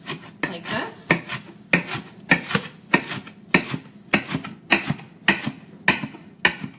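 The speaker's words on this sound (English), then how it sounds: "Now I love my lettuce really finely chopped" A chef's knife chops lettuce on a big cutting board, a fast, steady run of crisp close thuds, about ten rhythmic strokes with no talking.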